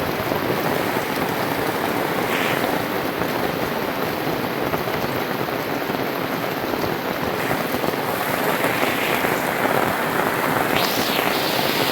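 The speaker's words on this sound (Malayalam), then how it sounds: "നല്ല മഴ വീണ്ടും തുടങ്ങിയിട്ടുണ്ട്." Heavy rain falling continuously, a loud, thick wash of drops hammering nearby surfaces with a faint hint of wind, steady throughout with no voices.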